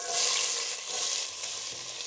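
Chopped vegetables cooking in hot oil in a pan for a tomato pasta, a soft, even sizzle with faint stirring, fairly quiet and close.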